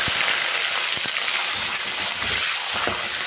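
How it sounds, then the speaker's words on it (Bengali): Dried red chilies, whole cumin seeds and onion hit hot oil in a kadai, producing a loud, constant hissing sizzle with a few soft knocks and stirring sounds. "কড়াইতে তেল দিয়ে দিলাম শুকনো লঙ্কা, দিয়ে দিলাম গোটা জিরা, দিয়ে দিলাম পেঁয়াজ"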